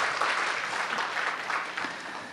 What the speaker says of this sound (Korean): 격려의 박수 한번 부탁드릴까요?